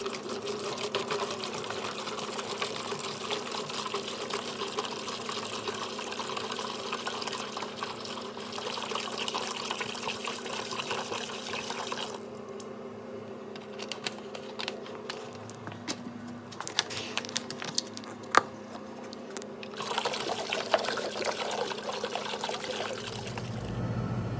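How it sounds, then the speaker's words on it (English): Antifreeze runs from a hose into a tractor tire as ballast, a steady low liquid rush and trickle with a constant mechanical hum from a pump, briefly dropping to a quieter drip midway before resuming, no talking. "Putting our hose down in here. And then we're just gonna start filling it up here with some antifreezes."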